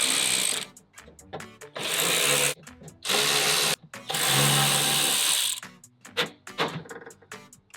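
Power driver spinning out 10mm bolts from a metal panel on a 3rd gen Toyota 4Runner, four sharp whirring bursts of a second or so each with clicks and clatter between them, close up.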